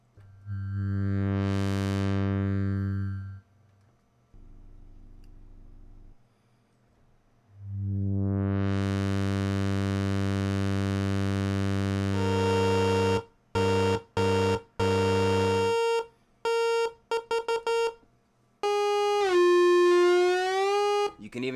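A Moog Slim Phatty analog synthesizer playing thick, bell-like tones: long sustained notes with a rising sweep, then rapid choppy stuttering bursts and a final bending, warbling note, loud and alone.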